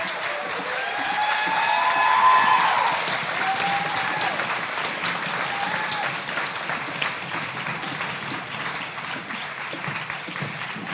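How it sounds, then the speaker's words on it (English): A school concert audience gives a big round of applause for the senior class at a high school final concert: dense, sustained clapping that swells early and holds steady, filling the hall with faint cheers mixed in. "Let's hear a big round of applause"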